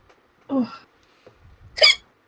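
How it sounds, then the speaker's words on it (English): A woman's hiccups, two short close squeaky bursts about a second apart with a faint murmur between them. "She's got the hiccups."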